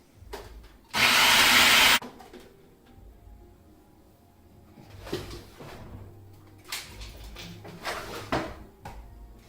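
A blender grinds Parsi kheema ingredients into a smooth paste in one loud, close burst of about a second, followed by quieter clattering and handling sounds.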